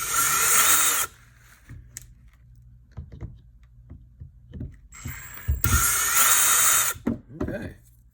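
A power tool whirs in two loud bursts as it backs screws out of Toyota Corolla solenoids, with quiet clicks and handling noises between the runs.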